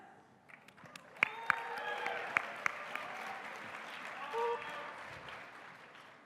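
An audience at the 2017 SXSW Gaming Awards breaks into applause with scattered cheers, the clapping swelling into a sustained wash after a few sharp early claps, with a voice faintly audible through it.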